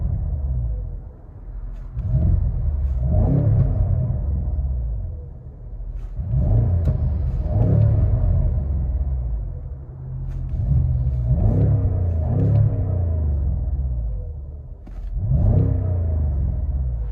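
A 2019 BMW M550i with a 4.4L V8, dual exhaust and resonator delete revs repeatedly, deep rumbling blips rising and falling in four or five swells, heard from nearby.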